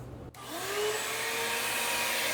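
A vacuum running through a Makita orbital sander's vacuum adaptor starts with a click and a rising whine, then holds a steady loud suction roar.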